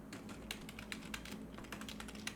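Fingers type on a computer keyboard in a steady run of quick, close key clicks over a low background hum, with no talk.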